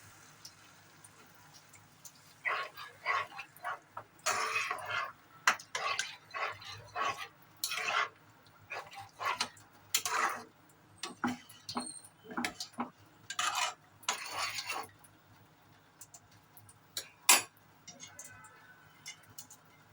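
Soybean curry stirred in a pan, with a series of scraping and clinking spoon strokes in irregular bursts, fairly close, amid quiet background.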